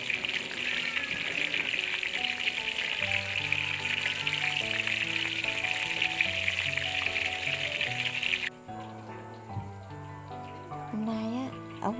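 Oyster mushrooms fry in a pan with a steady, close sizzle for about eight seconds under background music and talking, then the frying sound cuts off and only the music and voices continue.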